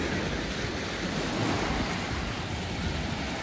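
Waves break on the shore of the East Sea at Bonggil Beach near Gyeongju, a steady, full roar of surf mixed with wind rumble on the microphone.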